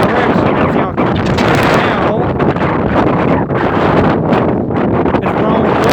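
Strong Hurricane Delta winds roar and buffet continuously, loud and close, with rough gusting noise battering the microphone throughout.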